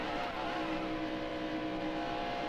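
Race car engine from the NASCAR Heat Evolution video game, a steady loud droning whine held at high revs throughout, with no talk.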